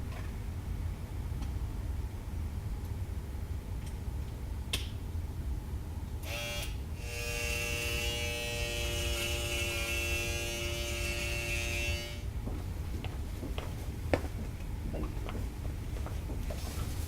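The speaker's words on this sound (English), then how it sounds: "If required, ask the ward staff for the hair clipper, as this is not a standard item on the IV trolley." An electric hair clipper from a hospital ward, used while preparing a site for IV cannula insertion, buzzing steadily for about six seconds with a tonal hum over quiet room background, then switching off.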